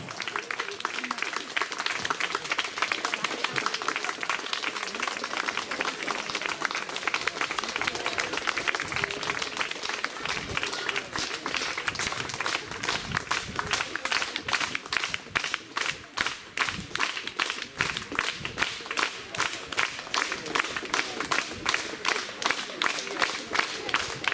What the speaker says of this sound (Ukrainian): Ми не просимо, люди плескають.